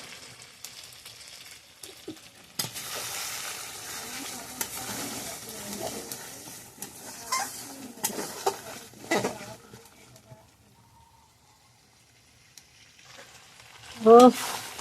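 Meat heating in a pan on a home stove, with a soft sizzle and intermittent stirring scrapes and clatter, fairly faint and close, with a brief louder clatter near the end.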